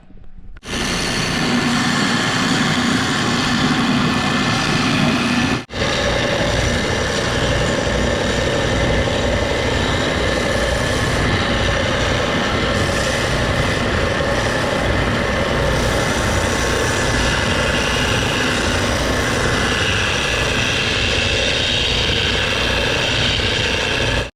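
Bauer oscillating spindle sander, fitted with one of its extra spindles, switches on and then runs as a steady loud motor drone and hum with a brief dip near the start, continuing close and unbroken, with no speech.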